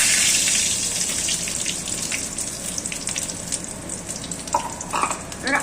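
Bay leaf, dried red chilli and five-spice seeds frying in hot oil for a vegetarian taro-stem dish, a steady close sizzle and crackle throughout with a few brief stirring clinks near the end.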